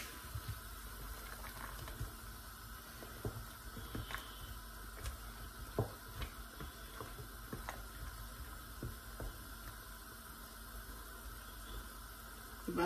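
A pot of nsala soup bubbles and simmers steadily, with soft pops and crackles over a continuous hiss and low rumble, no talking.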